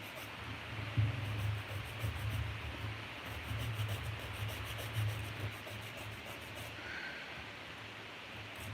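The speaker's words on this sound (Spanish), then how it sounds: "Voy a tratar de limar más despacio." Steady soft rasping of a nail file working over polygel almond-shaped nails during a live manicure, close and continuous with slight strokes, no talk over it.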